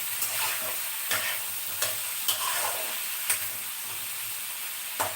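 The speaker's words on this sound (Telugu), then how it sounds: "వంకాయలు వేసేసి వేగిస్తాం బాగా" Brinjal pieces fry in a pan with a steady hiss of oil, punctuated every second or so by sharp clicks of a utensil stirring against the metal.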